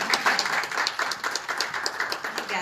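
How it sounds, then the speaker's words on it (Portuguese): A crowd claps and applauds continuously, a dense patter of many hands at moderate volume throughout. "Pode aplaudir a Cris."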